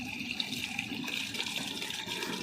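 Water rushes steadily into the radiator of a ten-wheel truck, a continuous, fairly loud gushing fill with no voices over it.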